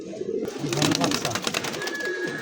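Coloured fancy pigeons, Iranian grizzle breed, coo and flutter close by in a loft or market, a busy layered murmur of birds with faint voices mixed in.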